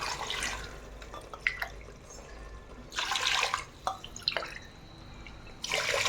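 Water splashes and trickles in short bursts, pouring into a cooking pot for prawn biryani, with brief pauses of quiet dripping between pours.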